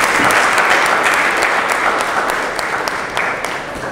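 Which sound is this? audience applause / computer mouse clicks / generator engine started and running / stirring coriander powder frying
audience applause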